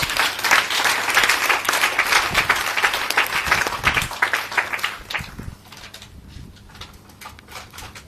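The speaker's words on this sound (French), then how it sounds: "Est-ce que tu peux acclamer Jésus?" A church congregation claps and cheers in dense, sustained applause that fills the first five seconds, then thins into scattered claps and a quieter murmur toward the end.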